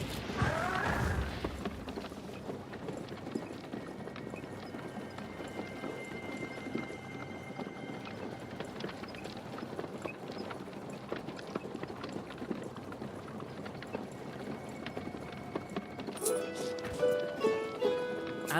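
Hooves clip-clop steadily as a horse-drawn carriage pulls away in a fantasy video game, a continuous mid-level rumble of hoofbeats and rolling wheels with a brighter clatter near the end.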